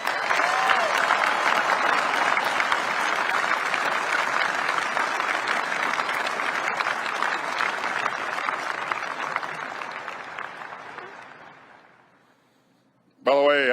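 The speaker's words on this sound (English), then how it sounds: "let's give the entire workforce a round of applause." Loud, sustained applause from a large crowd at the B-21 reveal ceremony fills the room, then gradually fades to near silence before a voice briefly starts again.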